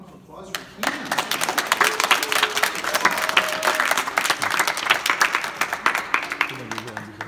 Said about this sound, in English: Put a round of applause for Cian.